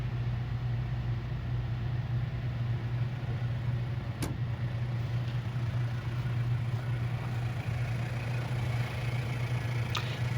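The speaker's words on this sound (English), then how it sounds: "the wheel and turn off the engine" A 2021 Mahindra Roxor engine idles steadily with a low, even hum, close and constant for about ten seconds, with a couple of faint clicks over it.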